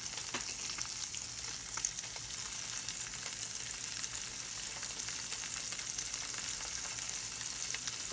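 A brown trout fillet fries in a pan with steady, dense sizzling and crackling that holds at an even level throughout, with no voices.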